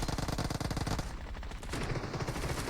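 Rapid bursts of MG3 machine-gun fire in PUBG Mobile, loud and close, with dense rhythmic shots running almost continuously through the clip and no talk over them.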